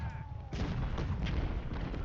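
Civil War cannon artillery firing in Ultimate General Civil War, a booming discharge midway followed by rolling rumble of distant shots, with a faint tone beforehand.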